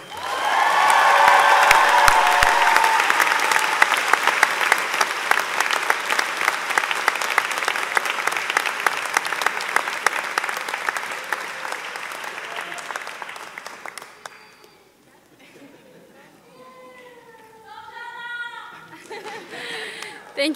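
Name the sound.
audience applause welcoming commencement student speaker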